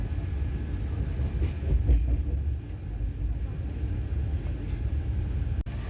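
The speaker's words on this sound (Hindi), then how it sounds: "हमारा ट्रेन आगे बढ़ता चला गया" Passenger train on the Howrah to Pune route rolling steadily, a continuous low rumble of wheels and carriage noise with faint rhythmic clatter, close and sustained, ending in a sharp brief click.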